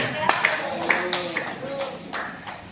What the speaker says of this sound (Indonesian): Ya, tepuk tangan untuk Tuhan.